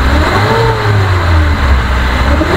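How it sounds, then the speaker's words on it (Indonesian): A 2011 Suzuki Carry Futura pickup engine revs up from idle, the loud, close mid-pitched drone rising smoothly in pitch and holding at higher RPM without any talking. "Kalau kita naikkan dikit RPM, kita dengerin."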